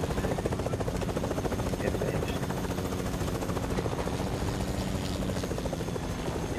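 A video game helicopter flies with a steady, loud rotor thump that stays dense and constant, while faint gunfire-like bursts mix in near the end.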